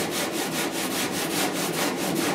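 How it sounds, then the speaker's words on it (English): Hand sanding of still-soft body filler on the rear cab panel of a 1966 Ford F100 gives a close, steady abrasive rasp with quick regular back-and-forth strokes, loud and continuous with no talking. "It's still not quite hardened yet, which makes it really easy to sand on."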